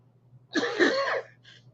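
A single harsh cough burst, close and fairly loud, followed by a brief faint breathy trailing sound, over a low steady hum.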